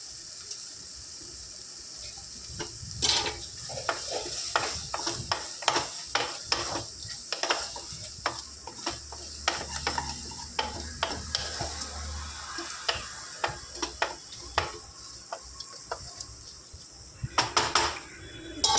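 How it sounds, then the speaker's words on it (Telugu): Fish tomato curry made with bommidayi fish is stirred in a pan after masala and coriander go in: irregular spoon scrapes and clinks over a steady low simmering sizzle, close by, with no talking. "దీంట్లో ఒక వన్ స్పూన్ మసాలా కొద్దిగంత కొత్తిమీర వేసుకుందాం వేసుకొని చక్కగా కలుపుకోవాలి"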